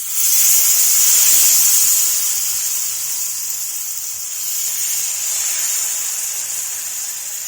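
Jowar flour dosa batter sizzling on a hot griddle, a loud, steady, close hiss that swells at the start and then eases slightly, with no talking.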